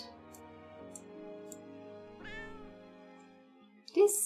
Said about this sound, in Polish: Jest jakieś miauczenie, słyszę.